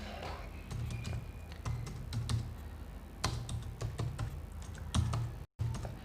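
Keys clatter on a computer keyboard in a steady run of close typing, with short clicking clusters separated by brief pauses.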